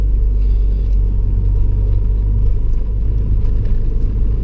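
Car engine driving on a road, easing off the throttle into engine braking: a steady, loud low rumble that continues unbroken throughout, with no voices.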